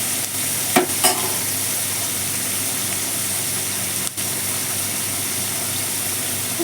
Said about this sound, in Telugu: తాలింపు త్వరగా అయిపోతుంది.